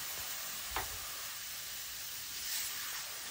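Evaporated milk goes into a hot pan for a pasta white sauce, raising a steady soft sizzle and hiss with a brief stirring scrape, close and fairly quiet.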